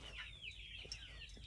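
Desi village roosters and hens in a small coop give a quick run of clucks and short calls, close and fairly quiet against a low background murmur.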